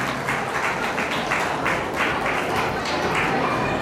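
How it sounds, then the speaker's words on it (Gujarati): An audience applauding at a tribal community gathering in Gujarat, a steady wash of many hands clapping at moderate distance, sustained throughout without speech. "તાળીઓના ગણગણાટથી ધન્ય બનાવી જોઈએ"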